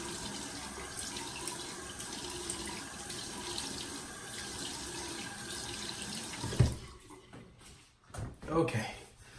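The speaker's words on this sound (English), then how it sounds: "There's some cold water." Cold water runs from a tap into a sink in a steady, splashing stream that cuts off near the end, followed by a few clunks and handling sounds, with someone talking over it.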